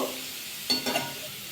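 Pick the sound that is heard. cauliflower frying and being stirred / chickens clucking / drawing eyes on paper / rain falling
cauliflower frying and being stirred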